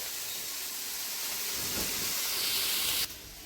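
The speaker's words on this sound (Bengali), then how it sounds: "রুই মাছ দিয়ে পেঁয়াজ দিয়ে এখন ভাজা হচ্ছে" Rohu fish and onions frying in a pan make a loud, steady sizzling hiss that holds evenly for about three seconds, then drops off abruptly.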